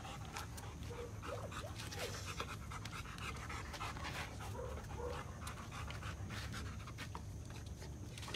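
A dog pants rapidly and steadily after a hard workout, the close, rhythmic breaths running throughout over a low outdoor background hum.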